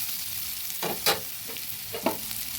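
Beans, potatoes and fenugreek leaves stirred as they fry in a pan: a steady broadband sizzle with a few sharp scrapes of the spoon, close and moderately loud, no talking.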